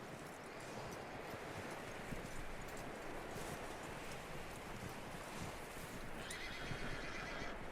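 A horse neighs and its hooves clop faintly in the open-world western game Red Dead Redemption 2, a soft whinny under steady wind-like ambience with no talking.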